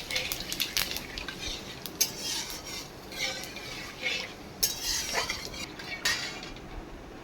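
Whole cumin seeds go into hot oil with dried chillies and bay leaves for mango chicken, followed by light scraping and clinking of a spoon against the pan and a soft sizzle throughout.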